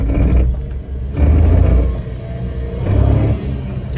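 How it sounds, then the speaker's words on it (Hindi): A Suzuki WagonR producing a low grinding rumble under acceleration, coming in two loud surges separated by a quieter stretch, close and heavy. "जिस टाइम गाड़ी को उठाते हैं उस टाइम ना गर्र आवाज आती है"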